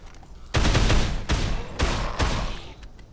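Gunfire from a weapon in the zombie game Dead Island, four loud, close bursts of shots spaced about half a second apart, with no talking.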